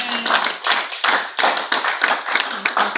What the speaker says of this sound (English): Can you give the Lord a hand clap of victory?